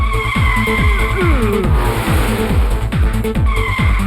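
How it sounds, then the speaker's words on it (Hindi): A cartoon car braking hard and spinning into a turn, heard as loud, sustained tire squeal over a roaring engine, with a busy music score running throughout. "तेजी से ब्रेक मारने की वजह से गाड़ी टर्न हो गई"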